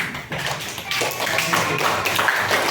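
Fourth-grade pupils in an elementary school classroom clap together, a quick rattling burst of small hands that starts abruptly and stays loud and close for a couple of seconds.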